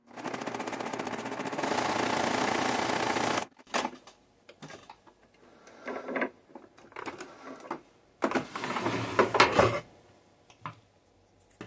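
A sewing machine runs zigzag stitching on fabric scraps in a fast continuous burst, then stops, followed by scattered short clicks, handling noises and brief bursts of stitching.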